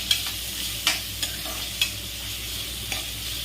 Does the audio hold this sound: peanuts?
yes